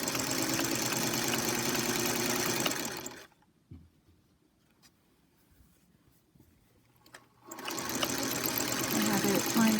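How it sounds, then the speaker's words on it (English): A sewing machine runs a fast, steady stitch across fabric, a loud close whirring buzz for about three seconds, then stops for a few seconds of near silence with faint handling noise before the stitching resumes just as strongly. "we're going to go ahead and just sew all the way across"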